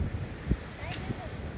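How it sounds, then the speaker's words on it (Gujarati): Gusty wind buffets the microphone with a low, rumbling roar, while a faint voice murmurs in the background. "એટલો પવન છે હજી બોલો એટલે કે પવન ધીમું પડવાનું નામ નથી લેતો"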